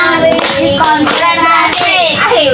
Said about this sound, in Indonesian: Pakai tepukan ya biar lebih semangat gitu.